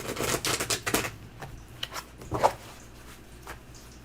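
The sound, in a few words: tarot cards being shuffled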